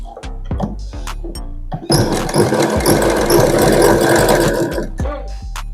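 A sewing machine runs in a steady, fast stitching burst while an Aari-work blouse is sewn. Short starts and stops come first, then a loud continuous run of several seconds before it stops again.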